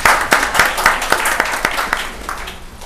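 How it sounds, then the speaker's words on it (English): Applause at a county board of commissioners meeting, a short round of clapping from a modest room of people, fairly close and even, fading slightly toward the end. "please give a round of applause to welcome her"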